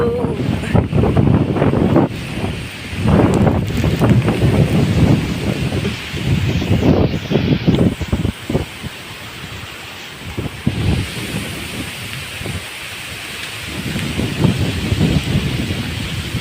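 Strong wind buffets the microphone in heavy, roaring gusts, with bits of talking underneath.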